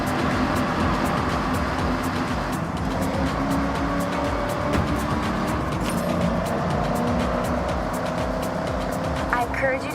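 A car engine roars loudly and continuously in the video game Forza Horizon 6, its sound echoing as if inside a tunnel, with no pauses throughout.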